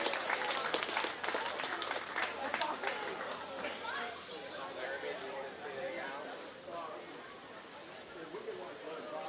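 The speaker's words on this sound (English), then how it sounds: "Give all 3 of those exhibitors a great big round of applause as they head back." Applause for three young exhibitors leaving the ring at a county fair 4-H swine show, a steady wash of clapping mixed with children's chatter and crowd noise around the show arena.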